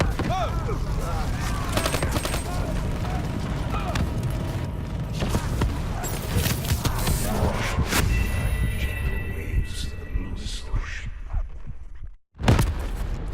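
Sustained machine gun fire from an MG nest in Call of Duty Black Ops 3, dense rapid bursts layered with explosions and shouting soldiers, ending in a brief silence and a final heavy blast.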